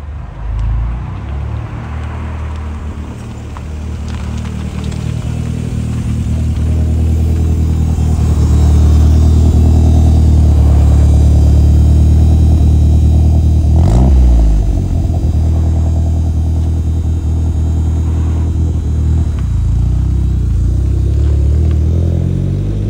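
A Ford Sierra Cosworth 4x4 on a test drive after running-in, its engine droning loud and close from inside the car, building through steady acceleration with a few sharper revs, no talk.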